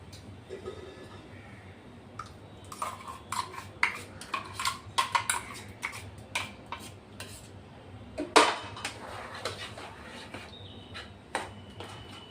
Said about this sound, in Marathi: एकाच साइडने एकाच डायरेक्शन मध्ये असं फेटायचं आहे बघा